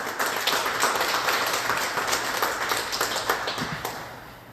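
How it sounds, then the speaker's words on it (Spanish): Audience applause at a binational symposium, a dense, steady wash of many hands clapping that holds evenly for several seconds and then begins to thin and fade toward the end, with no talking over it. "Un fuerte aplauso para Óscar Bernardo,"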